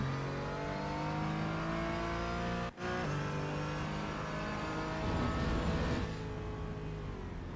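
A race car engine at Silverstone roars steadily at high revs with layered harmonic whine, briefly cutting out for a split second before resuming, then surging louder near the end.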